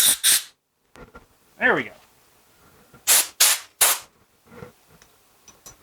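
Compressed air blasts metal shavings out of a spindle shaft in a workshop: several short, loud, hissing bursts separated by pauses, with someone speaking briefly between them.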